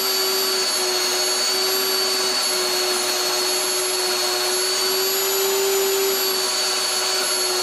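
An electric grinder run on a Goal Zero portable power station at its high setting, drawing around 550 watts, gives a loud, steady motor whine with a constant high-pitched tone that holds unchanged from start to finish with no talking.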